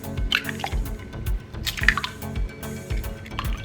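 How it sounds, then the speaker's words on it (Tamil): Three eggs are cracked into a large mixing bowl while making a brownie cake, giving a run of soft, wet drips and small cracking taps, close and fairly quiet over a low background hum. "அதுல 3 முட்டையை உடைச்சு உள்ள சேர்த்திக்கலாம்."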